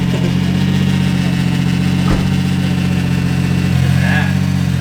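A car engine idles steadily with a low, even rumble, close and constant throughout.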